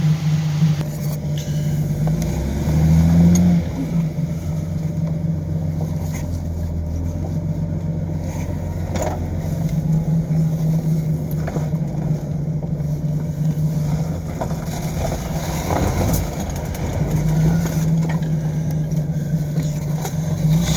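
Car engine running steadily during a ride, a constant low drone with slight swells in revs, heard from inside the vehicle along with road noise and no talking.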